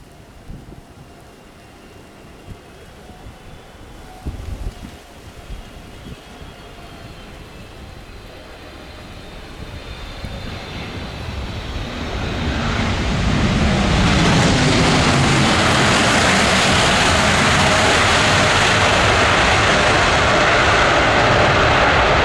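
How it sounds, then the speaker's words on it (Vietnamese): A Cathay Pacific Boeing 737-300 jet from Hong Kong landing at Tan Son Nhat airport, its engine roar building from a distant hum to a loud, broad rushing roar that stays strong as it passes close by. "chúng ta sẽ tới với chiếc Boeing 737-300 của hãng hàng không Cathay Pacific"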